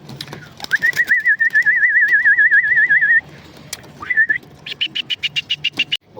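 Old homing pigeons at a loft give clear, close coos and a long warbling whistle-like call, then a quick run of about ten rhythmic pulsed notes, with no talking over them.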